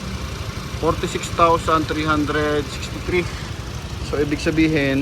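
A Toyota Fortuner's gasoline engine idles smoothly with the hood open, a steady low hum running beneath someone talking over it throughout.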